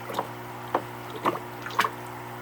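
Hydroponic nutrient being stirred into water with a swizzle stick, four soft watery sloshes at an even pace, close and faint over a low steady hum.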